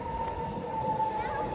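A metro train pulls into an MRT station platform, a steady rumbling roar with a sustained tonal whine of the arriving train, while people talk nearby over the noise.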